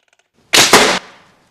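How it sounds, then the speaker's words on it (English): An over-under slingshot crossbow fires two shots in quick succession, two loud sharp cracks about a fifth of a second apart, close by, with a short fading tail. "two shots, but over under, and you can fire them at once or shot by shot,"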